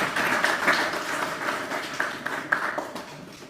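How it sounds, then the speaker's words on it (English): Audience applause at a live World Press Freedom Day event at Strathmore University: dense, continuous clapping from a sizeable crowd with a few sharper individual claps standing out, holding steady for several seconds. "Another round of applause, please"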